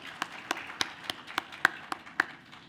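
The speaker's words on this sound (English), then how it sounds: "So, just give him a big round of applause." Sparse, evenly spaced claps ring out at the closing session of a workshop for Professor Rahman, about ten distinct hand claps from a small audience in a quiet room.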